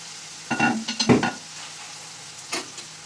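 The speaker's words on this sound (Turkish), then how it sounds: "Biberler de bayağı güzel kızardı." Peppers fry in a pan under a low, steady sizzle, broken by a few short bursts of stirring and scraping near the start and one near the end. No one speaks.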